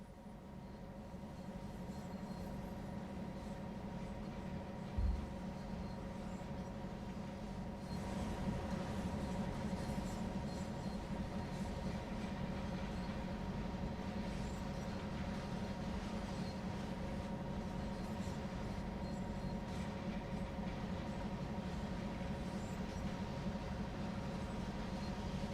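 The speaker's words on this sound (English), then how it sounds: "You're currently aboard a GP9RM diesel locomotive" A Canadian National GP9RM diesel locomotive in Train Sim World 2020 drones steadily from onboard, its low engine hum and rolling rail noise continuous throughout, with a brief thump near the start and a slight rise in intensity partway through.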